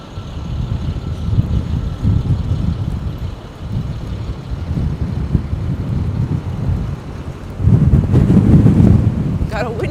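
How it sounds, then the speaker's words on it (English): Wind gusts buffet the microphone on an open, unsheltered stretch of a winter walk in Toronto, a loud, steady low rumble with a stronger surge near the end. "Got a wind gust here."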